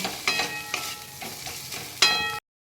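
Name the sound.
spices with chili powder and turmeric sautéing in a pan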